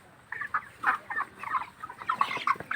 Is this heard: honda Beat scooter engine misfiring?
no